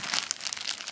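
Plastic packaging around a laptop bag being handled, giving a short burst of close, crisp crinkling and rustling with no voices.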